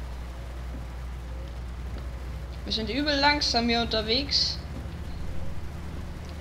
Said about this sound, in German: Regeneffekte sieht man immer noch.